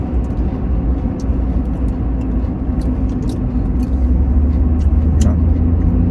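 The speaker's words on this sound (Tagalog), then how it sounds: "Malapit na akong pumasok sa highway. Excited na akong bumirit." A pickup truck with a newly replaced ignition coil drives toward a highway in Canada, its steady engine and road rumble loud and continuous from inside the cab, rising slightly as it builds speed.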